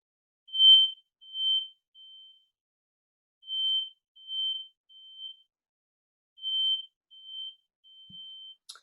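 A smoke-style fire alarm sounds a high electronic beep in groups of three, repeating three times with pauses between, fairly faint and alone with no talking.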